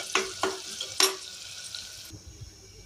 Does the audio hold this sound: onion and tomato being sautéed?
yes